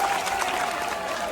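Audience applause at a political speech, a dense, steady wash of clapping from a crowd across the whole short stretch.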